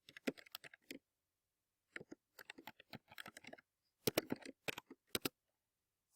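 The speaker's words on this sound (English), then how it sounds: "make sure you type it exactly as you see it" Rapid clicking of keys on a computer keyboard comes in quick bursts with short pauses between, close and fairly soft, with no talking.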